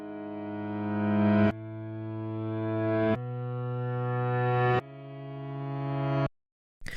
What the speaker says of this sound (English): this is essentially just the piano chords that I played off of the MIDI, but I bounced it in place and then reversed it